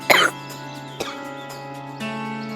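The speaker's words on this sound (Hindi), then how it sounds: "फिर से खांसी उड़ गई" A single sharp cough at the start followed by a short quieter cough, then a lingering tonal background hum.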